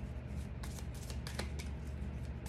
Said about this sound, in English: They're very hard to shuffle.